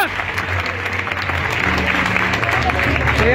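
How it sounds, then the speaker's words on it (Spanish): Loud, steady applause fills a hotel ballroom for both boxers after a boxing match between Grizzly Valdez and Francisco García at the Hotel Veracruz. Voices carry underneath the clapping throughout. "que resuene en el Hotel Veracruz, un fuerte aplauso para ambos peleadores"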